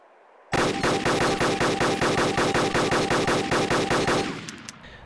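Sustained automatic assault rifle fire in the video game DayZ, a rapid and steady burst of about twenty loud, close shots with no talk, ending in a short decaying echo.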